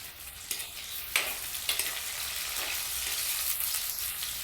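Crab pieces for a Kerala crab curry fry in a hot pan, a steady bright sizzle with several scraping stirs breaking through, close and without speech.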